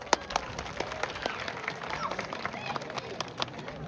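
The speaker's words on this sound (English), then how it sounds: "Let's give him a big round of applause." Audience at a zoo bird show in Toronto clapping for a falcon's catch, a crowd of scattered, sharp claps close and far rising into steady applause with some crowd noise beneath.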